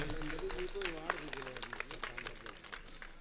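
An audience at an Indian mushaira poetry gathering claps in scattered, fairly faint bursts while a voice keeps speaking over the applause.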